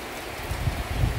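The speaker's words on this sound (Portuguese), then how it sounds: "E a chuva aumentou, pessoal," Heavy rain pours steadily through a November thunderstorm, a dense, wide wash of noise that swells slightly in loudness over about a second, with no talking.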